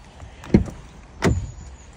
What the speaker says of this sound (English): unlock the car